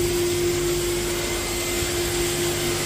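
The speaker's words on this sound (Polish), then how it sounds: "Odkurzacz oczywiście działa." A coin-operated car wash vacuum cleaner runs with a steady, loud motor drone and a constant whine, unbroken for the whole stretch with no voices.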